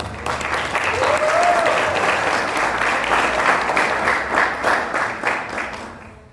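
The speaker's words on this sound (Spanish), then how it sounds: "un aplauso" A church congregation breaks into loud, sustained applause during a worship service. Many hands clap steadily and close by throughout, tapering off only at the very end.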